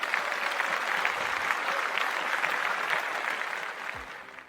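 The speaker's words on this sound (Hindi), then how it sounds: "सबसे मैं उनकी तालियां देना चाहता हूं" An audience at a direct selling talk bursts into steady, even applause that holds for about four seconds, then thins out as a brief low tone sounds near the end.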